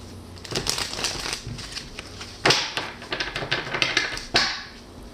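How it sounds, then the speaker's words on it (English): Tarot cards being shuffled by hand, a quick run of crisp taps and riffling clicks with a few sharper snaps, close up and fairly quiet. "One more shuffle."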